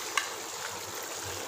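Onion and yoghurt paste tipped into a pan of beef korma and stirred, a steady close sizzle with a brief clink near the start and soft scraping underneath, no voices.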